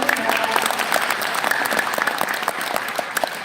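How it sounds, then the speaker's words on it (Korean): Audience applause at a Korean meetup event as a research institute head is welcomed to the stage, a dense steady wash of many hands clapping close and loud for the whole stretch. "박수."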